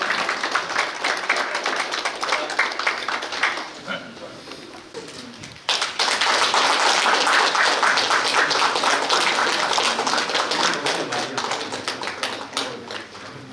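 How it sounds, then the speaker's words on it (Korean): A second round of audience applause at a political forum lecture for a presidential candidate, sustained clapping that dips briefly then swells back loud and dense, continuing to the end. "다시 한번 박수 부탁드립니다"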